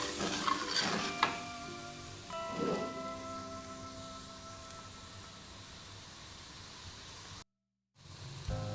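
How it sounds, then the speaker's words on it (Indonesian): Spoon scraping and stirring spices into water in a pan for Indonesian semur jengkol, with soft clinks early on and then a steady faint hiss, quiet and close. "Aduk-aduk ya sampai bumbunya rata ya, tercampur sama air ibu-ibu."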